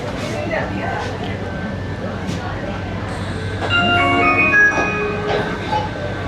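An Aqua Line 3 metro train rumbles into a station, with a low hum, rising screech and tonal squeals of the brakes as it slows, while people talk nearby.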